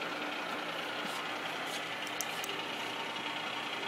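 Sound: milling machine feed motor moving the table

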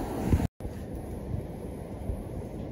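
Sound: wind at the seaside

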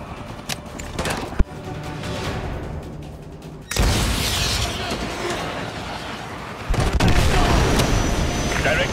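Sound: AGM missile hitting enemy helicopter, Call of Duty Modern Warfare 2 game

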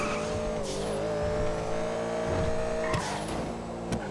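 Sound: fast car driving in GTA V Online video game

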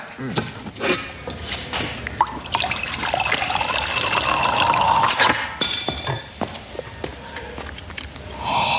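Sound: water poured into a cup

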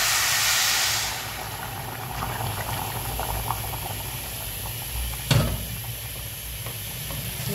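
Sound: water added to rice frying in pan

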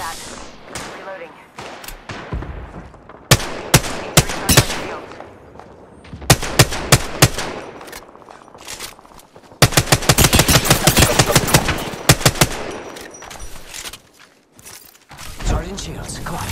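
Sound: gunfire in the video game Apex Legends

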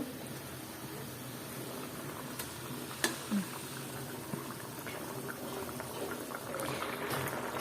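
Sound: water boiling in a pan for fish curry

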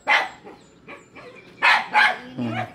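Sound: dogs barking

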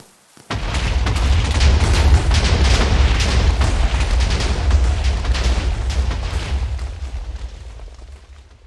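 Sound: big explosion in the video game Minecraft

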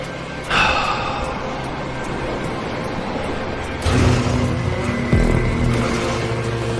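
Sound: race cars in GTA Online Hotring race, video game

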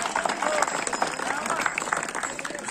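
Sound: crowd clapping at wrestling ground

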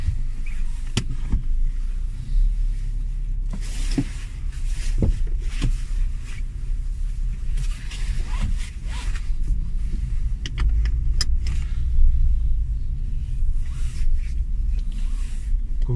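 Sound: Fiat Tipo 1.4 petrol car driving

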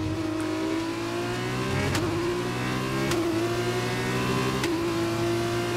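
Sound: F1 race car gear shifting in video game F1 2021

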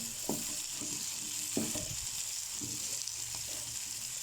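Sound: curry leaves frying in oil with okra

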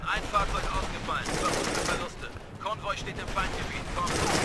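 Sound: rifle gunfire in Operation Flashpoint Red River video game

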